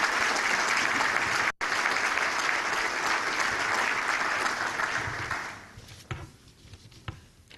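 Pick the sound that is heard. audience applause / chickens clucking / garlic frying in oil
audience applause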